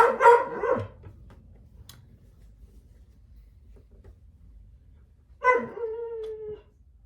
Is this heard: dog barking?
yes